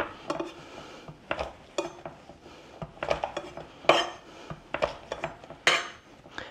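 Garlic cloves being crushed with a knife on a cutting board, a series of sharp knocks and thuds in an irregular rhythm, close and fairly loud with quiet gaps between.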